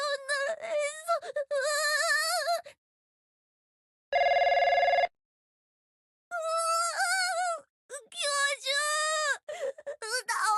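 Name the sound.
telephone ringing in Trickcal Revive video game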